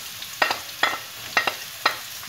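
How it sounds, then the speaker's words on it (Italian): Onions fry in hot oil in a pan, a soft sizzle under four quick, evenly spaced stirring scrapes. Close and short, with no voices. "mescoliamo e facciamo soffriggere per bene le nostre cipolle."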